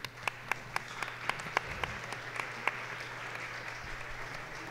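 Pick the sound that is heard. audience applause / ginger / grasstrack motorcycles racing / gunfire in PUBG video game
audience applause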